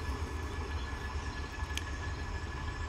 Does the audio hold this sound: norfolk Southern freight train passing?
yes